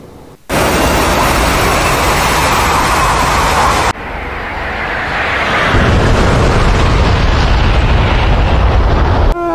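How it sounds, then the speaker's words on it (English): Bombs dropped from an A-10A Warthog in the DCS World flight simulator burst into loud, sustained roaring explosions, one heavy blast rolling straight into a second that builds and rumbles on to the end, with no talk. "And bombs are dropping."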